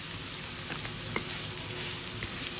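Plenty of onions sizzling in a hot pan while cooking bopis, a steady close crackle with occasional soft stirring scrapes and no talking.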